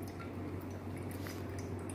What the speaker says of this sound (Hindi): स्लो स्लो आ रहा है ना पानी